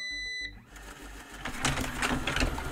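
A eufy Anker BoostIQ RoboVac 11S robot vacuum starts up on a table: a short electronic tone pattern, then a rising broadband whir of motor and brushes that grows louder and stays steady nearby.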